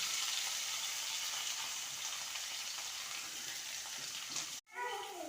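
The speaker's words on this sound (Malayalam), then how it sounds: "ഈ സവാളയിലേക്ക് കുറച്ച് ഉപ്പ് ഇട്ട് കൊടുത്തുകൊണ്ട് നല്ലതുപോലെ വഴറ്റിയെടുക്കട്ടോ" Chopped onions sprinkled with salt sauté in a hot pan for a chicken curry, giving a steady, even sizzle throughout that cuts out abruptly near the end.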